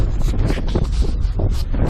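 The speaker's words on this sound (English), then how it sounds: "Kind of windy, so hang in there." Steady wind buffets the microphone outdoors at a house French drain dig, with a continuous rough rumble and gusty noise throughout, no clear voices.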